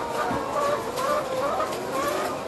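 Domestic chickens on a farm cluck and chatter steadily at close range, with several overlapping birds calling in short repeated bursts throughout.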